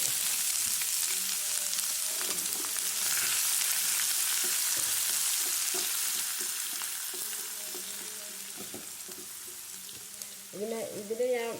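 Ginger, onion and carrot fry in a pan for upma, a bright steady sizzle with repeated spatula scrapes and taps that eases slightly before a voice speaks at the end.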